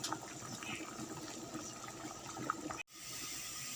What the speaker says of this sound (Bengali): এই যে ভাত ফুটছে